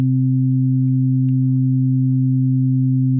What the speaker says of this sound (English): when I add together the fundamental with the first harmonic